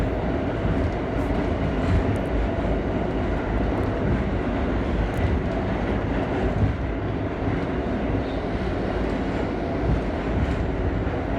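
An R38 subway car running on the A line, a steady loud rumble of wheels and motors with rattling carriage noise continuing throughout without a break.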